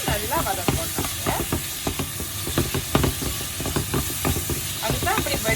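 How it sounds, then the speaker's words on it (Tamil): Tomatoes sauté in a pan for chicken devilled, a steady sizzle and hiss with stirring scrapes throughout, and a voice talking over the cooking. "இது வந்து தக்காளி நல்லா அவிஞ்சு இது சோஃப் ஆகும் வரைக்கும் நல்லா வதக்கோட்டாங்க."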